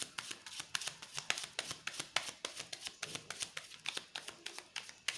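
Tarot cards are shuffled by hand in quick, even riffling bursts, close and soft, repeating steadily with no voices.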